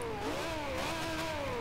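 A McLaren P1 in Forza Horizon 2 revs steadily, its engine tone climbing and wavering in a continuous loud drone with a faint clatter underneath and no talk.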